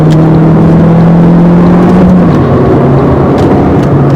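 An Alfa Romeo Giulietta 1.4 TB MultiAir engine accelerates hard, a loud, continuous engine drone rising steadily and shifting pitch partway through, heard up close with no talk over it.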